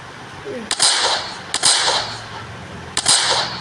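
Three sharp gunshots from a zombie warfare video game, spaced apart and loud, each followed by a bright burst of noise.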